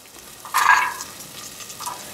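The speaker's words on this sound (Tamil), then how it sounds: "அதோடய போட்டு வதக்கிக்கிறோம்." Garlic sautéing in a pan with fenugreek, a soft crackling sizzle with a brief louder burst of frying or stirring in the middle, then a low steady hiss.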